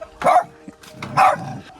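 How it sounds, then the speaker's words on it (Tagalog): A dog barks twice at close range, two loud short yelps about a second apart, with faint background noise and no talking. "Ang ingay ni Jinky."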